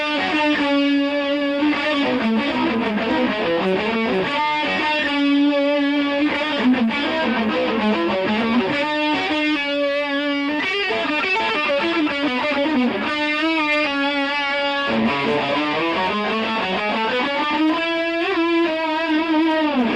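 Slow electric guitar lick through heavy distortion, sustained bending notes and sliding phrases ringing loud and close, a continuous thick overdriven tone with no voices.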